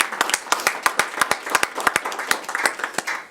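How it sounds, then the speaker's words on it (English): Audience at a city council business meeting gives a round of applause, a short burst of clear, close hand claps in an irregular patter lasting a few seconds. "everybody can give him a big round of applause"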